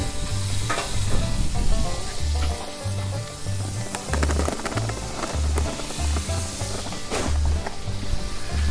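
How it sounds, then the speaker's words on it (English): A roux cooks in a cast iron pan, sizzling steadily while a utensil is drawn along the bottom in repeated scraping strokes, over a rhythmic low background beat. "you're making the roux right now, but this is on the bottom. You're not gouging this, you're just going along the bottom"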